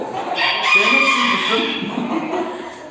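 A single long crow from a village rooster on a farm, loud and near, with a harsh, raspy rise that trails off slowly.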